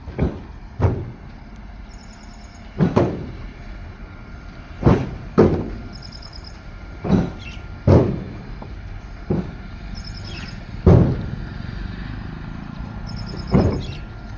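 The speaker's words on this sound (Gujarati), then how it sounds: "ટ્રેન એ ટ્રેન નીકળી" Repeated heavy clunks at a steady rhythm, like train wheels striking rail joints as passenger carriages roll past, with a faint high whine at times.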